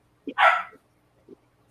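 Dogs barking nearby indoors at home in the morning: a quick yip, then one loud full bark, followed by a softer yelp about a second later, with quiet gaps between.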